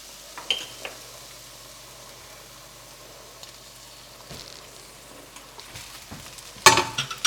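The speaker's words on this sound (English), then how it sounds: "Adding the rice." Rice being added to hot oil in a pot for Afghan Qaboli Palao, a soft sizzle and stir heard faintly up close, with a sharper scrape of grains against the pot near the end.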